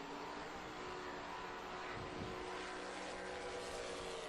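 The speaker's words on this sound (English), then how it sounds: "very neat sounding engine as he goes down there" Drag racing car engine on a run at a drag strip, a steady loud broadband roar with a constant tone sustained through the whole stretch, no talk over it.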